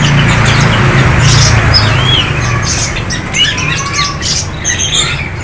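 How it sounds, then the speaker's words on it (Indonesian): Many caged birds at a cheap bird market in Gisting, Indonesia, chirp and squawk together in a dense, continuous chorus over a loud background hum of the market, with no talking. "Burung murah meriah di Pasar Gisting"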